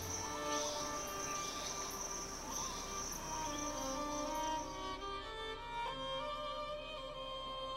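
Insects in an East Timor mountain forest, a steady chorus of high, shrill cricket-like chirps and trills layered over faint background hum, fairly quiet and continuous throughout.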